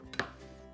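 A very sharp knife slicing into crumbly White Stilton with apricots, one quick crisp cut against a board with a faint scrape after, close and quiet, otherwise still.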